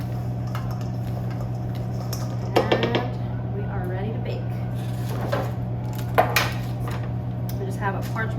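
Cubes of bread coated in butter and Parmesan get stirred in a bowl or pan, making scattered scraping and clinking sounds at a moderate distance under a constant low hum.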